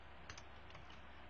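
Quick keystrokes on a computer keyboard as a command is entered, a few faint soft clicks in a quiet room with no voices.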